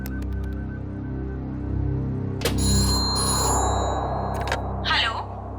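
A telephone rings during an outgoing call: a repeating electronic ringback tone with a bright tonal burst, heard over low background hum and room noise.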